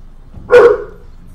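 A single loud, close dog bark rings out over a low background hum in the Stronghold Crusader 2 strategy game.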